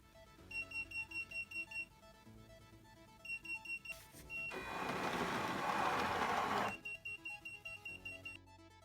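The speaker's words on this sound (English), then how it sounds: "vehicle detects mines and it gives buzzer warning and stops" A buzzer on a small robotic mine-detecting vehicle sounds in rapid repeated beeping bursts, broken by a few seconds of louder whirring motor or hiss noise before the pulsing beeps resume, close and alone.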